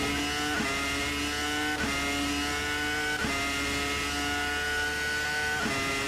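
A 2000-era V10 Formula 1 car screams around Hockenheim in Assetto Corsa, its high-pitched engine holding a steady wail with sharp rising sweeps as it accelerates through gears, close and loud with no talk.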